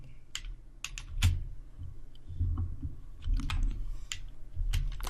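Computer keyboard keys clatter in short irregular bursts of sharp clicks with brief pauses, close and alone, while basic sums are entered into the Python IDLE shell.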